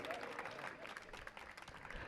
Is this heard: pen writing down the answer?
no